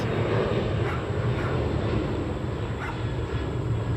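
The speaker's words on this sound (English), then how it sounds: "fucking planes" An airplane roars steadily overhead as a loud, continuous low rumble that neither builds nor fades, with no talking.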